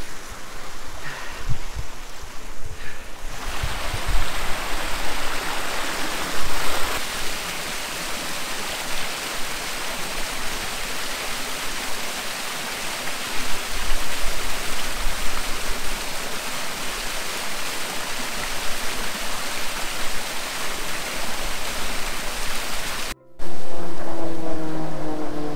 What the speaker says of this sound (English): I want to bathe in these little streams so bad.